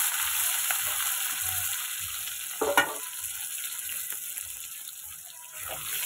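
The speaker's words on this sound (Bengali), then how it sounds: "আলুগুলোকে ভালো করে ভেজে নেব" Cut potatoes fry in oil with bay leaves in a home kitchen, a constant faint sizzle broken by a couple of brief stirring scrapes, close and quiet, no voices.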